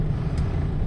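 Motorized tricycles in Philippine street traffic make a steady, close, low engine rumble, one continuous drone through the short moment with no break.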